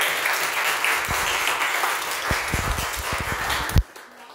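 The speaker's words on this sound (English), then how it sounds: "And a round of applause for Vinamra." An audience applauds a volunteer at a Toastmasters body-language session, a dense wash of clapping that holds steady for about four seconds and then cuts off sharply.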